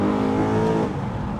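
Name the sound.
car engine revving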